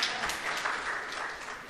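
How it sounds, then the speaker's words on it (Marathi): Brief burst of applause from an audience at a lecture hall event, a dense wash of many hands clapping together, fairly loud and continuous for under two seconds. "टाळ्या वाजा मावशींच्यासाठी"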